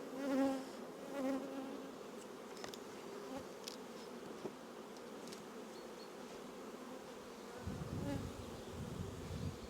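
Honey bees from an opened managed hive, worked without a smoker, hum in a dense, steady buzz throughout, close and moderately loud, swelling slightly near the end.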